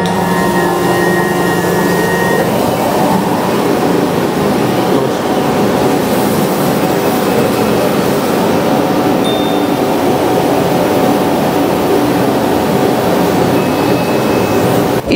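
Automatic tailoring machine cutting cloth in a workshop, a loud, steady mechanical whir and hum running continuously and unbroken throughout, with a faint high whine in the first few seconds.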